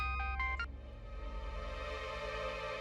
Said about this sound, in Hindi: तो गुड्डू का फोन स्पीकर पर डाले।